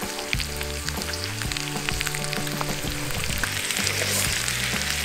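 A whole chuck flap cut of beef, about 2.5 kg, sizzles with deodeok root as it grills on a hot stone. The loud, steady frying hiss is dotted with sharp crackles and pops, and no one speaks over it.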